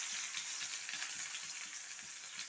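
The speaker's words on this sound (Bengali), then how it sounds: "প্রথমে আমি পেঁয়াজটা বেরেস্তা করে নেব।" Chopped onion frying in hot oil for a crispy fried-onion garnish, a steady close sizzle and crackle that runs evenly from start to finish with no talking.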